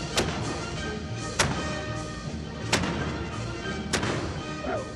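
Cannons fired by a Danish cannon lodge, a club whose members dress up in costume; four loud booming shots ring out at roughly even intervals over a steady outdoor rumble, with no one speaking.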